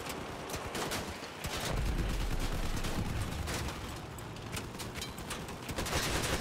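Rapid bursts of gunfire from vehicle weapons in the combat game Crossout, a dense rattle of repeated shots with heavier thumps mixed in, loud and continuous throughout without talk.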